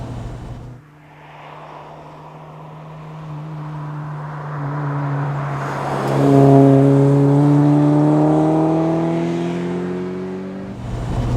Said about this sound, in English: let's just take it through the gears so you can revel in that sound